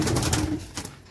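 Pigeons at a Punjabi pigeon keeper's loft give short, soft coos close by, with a low rustle that could be wingbeats, over roughly a second.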